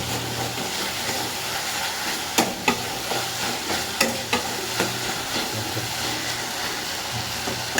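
Chilies fry in very hot oil in a pan with a steady, bright sizzle, punctuated by several sharp scraping clacks of stirring.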